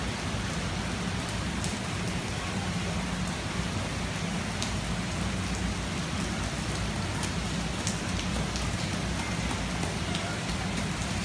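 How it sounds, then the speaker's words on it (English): Heavy rain pours steadily and loudly without pause in Guangzhou, a dense hiss of drops on surfaces filling the whole stretch. "It's been raining straight for 2 days."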